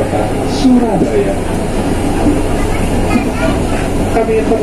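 Wijayakusuma passenger train pulling into Surabaya Gubeng station, a steady rumbling carriage roar with faint wheel screeches, heard from inside the car with a voice talking over it.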